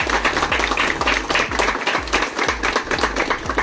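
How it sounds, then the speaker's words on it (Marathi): Loud applause welcoming a local corporator at a Govinda pathak gathering, with rhythmic group clapping and strong low thumps pulsing evenly throughout. "जोरदार टाळ्या"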